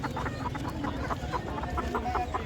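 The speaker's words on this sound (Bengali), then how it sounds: "এই জায়গায় দেখতেছি কিছু টার্কি মুরগি আর এমনি দেশি মুরগি আছে" Turkeys and local chickens at a cheap poultry market cluck and call over a busy, murmuring background, some calls close and others farther off.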